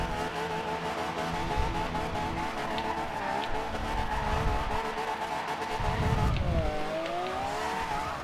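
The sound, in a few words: Toyota Supra drifting in video game Forza Horizon 2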